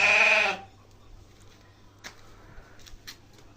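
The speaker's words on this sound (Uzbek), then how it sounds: "Chiroyli qo'ylar" A single loud, close sheep bleat at a livestock sale at the very start, then near silence with a few faint clicks and rustles.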